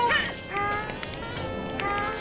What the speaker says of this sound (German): Das sind böse, böse Bienen.